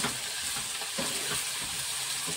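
Chopped onion and tomato sizzle steadily in a pan for an egg tarka, with soft scraping stirs of the spoon cutting through the close, continuous frying hiss.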